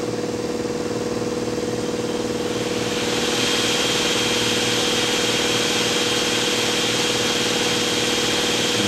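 An SCM Routech Record 132 TVN Prisma CNC router spindle spins a 4-to-5-inch-diameter tool at 8,000 RPM, holding a constant droning hum. A brighter airy hiss rises partway through and then stays steady.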